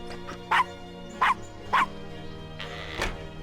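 A small dog in the Gabriel Knight video game gives three short yappy barks and a final yip over a quiet background hum.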